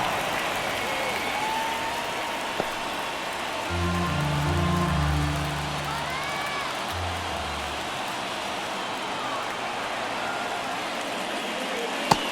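A steady wash of stadium crowd noise hangs over a Mets–Marlins game in MLB The Show 24, a constant distant roar like rain or applause, with a low hum swelling briefly midway.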